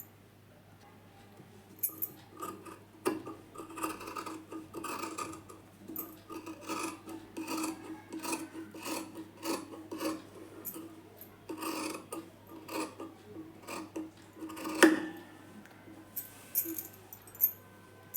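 Scissors snip through chudidar dress fabric along chalk marks in a steady run of close, crisp rasping cuts with short pauses between strokes; no one speaks.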